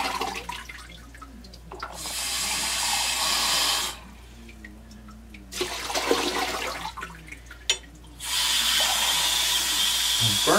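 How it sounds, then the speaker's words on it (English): Water runs and splashes in bursts over tumbled rocks being rinsed of grit, several loud gushes broken by short quieter pauses with faint handling noises. "I'm going to try to rinse them off a little more, make sure I get all the grit off of them."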